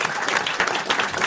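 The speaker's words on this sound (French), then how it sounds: "Ariel, on l'applaudit." A French radio-show studio audience claps in a steady, dense burst of applause that fills the whole short moment.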